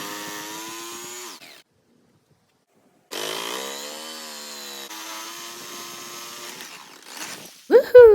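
A power saw cutting through scrap wood boards and a stabilizing board behind them, a loud, whining motor buzz that stops for a moment of silence, then resumes steadily and sputters out into a few closing bumps.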